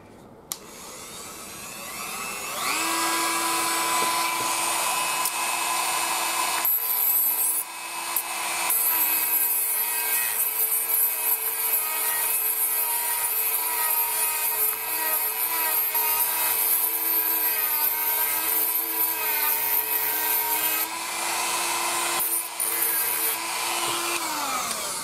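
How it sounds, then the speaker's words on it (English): A grinder bites into the rivets of a Radiola 20 radio during restoration, a loud continuous whining, rasping grind that holds for over twenty seconds with a couple of brief pauses in the tone. "We're going to grind the rivets out of it."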